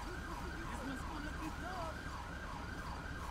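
An ambulance siren in the GTA V video game wails in a repeating rising and falling pattern, steady and moderately loud over constant traffic and vehicle rumble.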